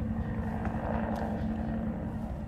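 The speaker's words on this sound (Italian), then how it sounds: "Io in lontananza sento un elicottero" Distant helicopter in the video game Resident Evil 2, a steady low rotor drone that stays faint and far off throughout with no voices over it.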